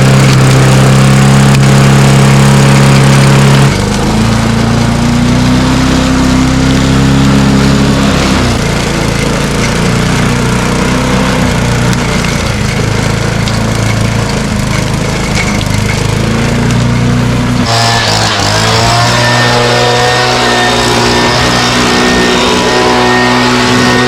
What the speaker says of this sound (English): Got the leaf blower in the shot.